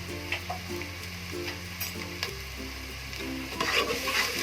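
Spice masala of cumin powder, turmeric and chili sizzling in hot oil in a pan for arbi leaf besan sabzi, a close, crackling fry with stirring scrapes that swells louder near the end, over a faint rhythmic tonal background.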